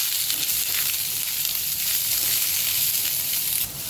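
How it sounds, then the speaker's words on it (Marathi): Onion frying in a little oil over high heat, a loud, close sizzle, a constant crackling hiss with little change, untouched by speech. "थोडंसं तेल आणि कांदा आपल्याला फास्ट गॅसवर भाजायचा आहे"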